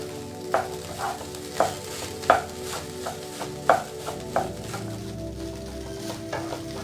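Carrot mixture being stirred into rice in a pan, with a spatula scraping and tapping in a regular rhythm of sharp knocks over a soft, continuous sizzle, close up.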